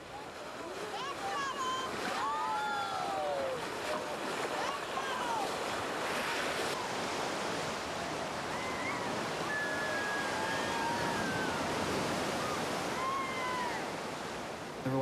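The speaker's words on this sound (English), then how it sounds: "The water's getting rougher" Rough river rapids rushing and churning steadily around a rafting group, a dense broadband roar with wind buffeting the microphone and faint voices or calls breaking through now and then.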